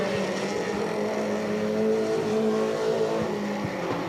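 Stock cars race around a track, a continuous droning roar of engines heard from a distance with a steady, blended whine as the cars battle for the lead.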